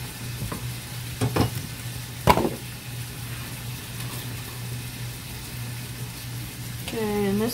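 Chopped onions and mushrooms sizzle in a pan, a steady close hiss with a few clanks of a utensil early on, while a voice talks briefly near the end.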